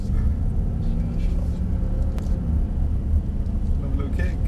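A Mercedes-AMG SL63 on a race track roars with a steady, loud engine drone, a constant low rumble that holds throughout under the car's cabin noise.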